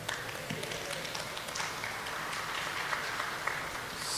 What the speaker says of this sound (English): Only the professors are clapping, I'm worried about this.